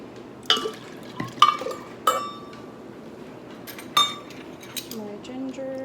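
A cup of water poured into a blender jar for a liver cleanse drink, with sharp glass clinks and knocks scattered throughout and a brief trickling fill near the end.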